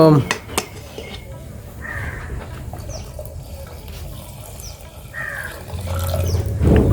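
Metal spoon scraping and clinking in a pot while drumstick leaf porridge is stirred, steady close scraping with occasional knocks and background bird calls.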